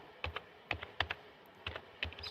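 Keys on a computer keyboard are struck in a light, quiet, uneven run of clicks, in small clusters with short gaps between them.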